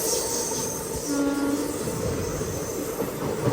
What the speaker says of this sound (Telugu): మ్యాంగ్లూర్ నుంచి చెన్నై వెళ్తుంది ట్రైన్.